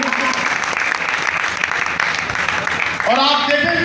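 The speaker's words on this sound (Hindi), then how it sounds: "जोरदार तालियों के साथ" Audience applause at a live children's dance competition event, steady dense clapping throughout with a louder swell near the end as a voice begins over it.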